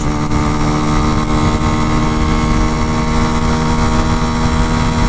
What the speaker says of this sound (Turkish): Şöyle bir deneyelim bakalım motoru. Yokuş yukarı gidiyoruz.